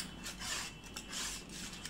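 Spatula scraping stuck potato and sweet potato fasting thalipeeth off a pan, a close, steady rasping rub in several strokes with no talking.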